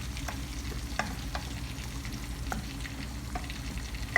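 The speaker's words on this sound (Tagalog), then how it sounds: "Tapos halo-haloin lang natin." Tuna sizzles in a frying pan as it is stirred for turtang talong, a soft steady frying hiss broken by scattered light scrapes and taps of a utensil, close and without talking.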